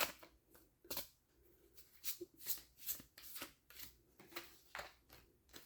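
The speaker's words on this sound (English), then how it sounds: "let's get another card here actually" Tarot cards being drawn and handled in a reading, with a series of sharp, close papery flicks and shuffling riffles in an irregular rhythm, no voices.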